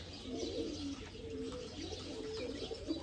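Pigeons coo in low, soft, repeated murmurs, rolling on steadily with faint chirps and background hiss.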